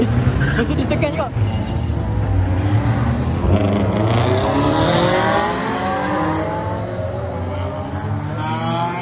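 A Mercedes car accelerates hard at a street gathering of performance cars, its engine note climbing steadily under constant crowd noise and people talking nearby.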